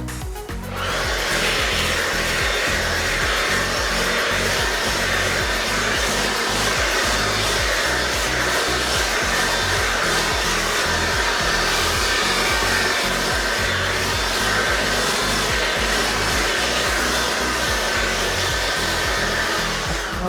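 A Ryobi OBL1820S cordless leaf blower runs nonstop at full power, blowing thick layers of fallen leaves with a loud, steady whooshing roar close by.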